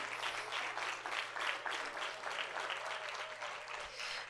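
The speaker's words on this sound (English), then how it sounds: "Everybody give her a round of applause." A public safety week gathering applauds Siobhan Jones as she comes forward, a moderate, steady patter of many hands clapping in a room with a low electrical hum beneath.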